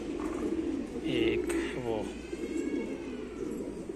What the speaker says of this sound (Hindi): आज कुछ जंगली कबूतर भी आए हैं।